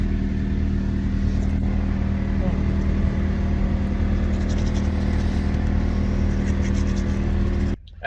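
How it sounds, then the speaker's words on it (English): An HGV lorry engine idles at a steady, close, low drone, continuous and even, cutting off abruptly near the end. "Engine is running, as you can hear."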